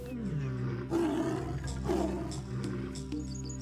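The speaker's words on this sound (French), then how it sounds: "quand un lion beugle, les animaux peuvent l'entendre jusqu'à 8 km à la ronde" A lion gives deep, powerful roars, two strong swells about a second apart, followed by lower grunting, with faint bird chirps behind.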